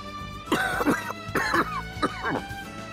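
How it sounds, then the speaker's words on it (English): A video game character in Xenoblade Chronicles 2 coughs in a few raspy, throat-clearing bursts over roughly three seconds, close and clear over soft background music. "Just a pesky little cough."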